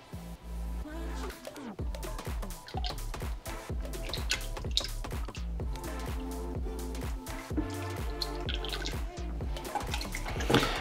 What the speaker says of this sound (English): All right, so adding in the lye water solution.